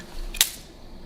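A Canonflex, Canon's first SLR film camera, fires its shutter at a one-second speed, giving one short sharp mechanical click close by in a quiet room with a faint background hum.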